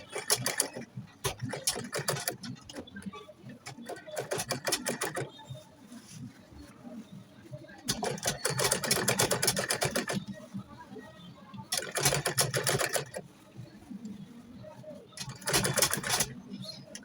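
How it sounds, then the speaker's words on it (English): A sewing machine top stitching around a shirt collar runs in several rapid bursts of needle clatter, stopping and restarting with quiet pauses between runs, fairly close and moderately loud. "So I'm going to go ahead and start top stitching."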